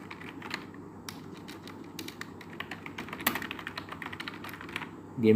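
Fingers type on a computer keyboard, a rapid run of close light key clicks continuing throughout, with a voice starting right at the end.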